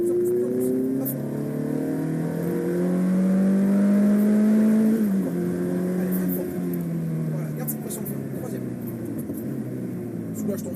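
A car accelerating on the Grand Sambuc driving circuit, engine note rising and falling in pitch as it pulls out of a turn under throttle, loud and close from inside the car, with a person talking over it.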